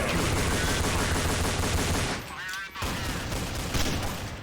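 Rapid gunfire bursts in the video game Counter-Strike: Source, loud sustained rattling shots that stop briefly and then resume in another dense volley.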